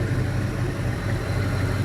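An LM7 5.3L LS V8 engine fitted with an LS1 cam, new crank and bearings idles steadily while warming up, a low even rumble close by with no voices.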